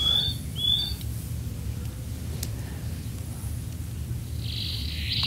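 Recorded osprey calls play over steady low room rumble, with a couple of high, thin chirps at the start and a brighter, longer call near the end.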